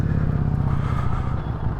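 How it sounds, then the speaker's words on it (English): A motorcycle engine revs with the clutch pulled in during low-speed handling practice, a close, loud, steady rumble that holds at one pitch for under two seconds. "pull in the clutch, bring those revs up"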